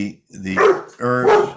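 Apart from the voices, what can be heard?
dog barking, the speaker's dog Scout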